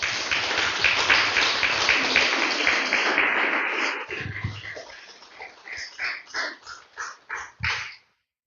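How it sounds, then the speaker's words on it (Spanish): A church congregation applauds loudly: dense, sustained clapping for about four seconds, then breaking into separate, uneven bursts of claps that fade out. "Déselo fuerte el aplauso, aleluya."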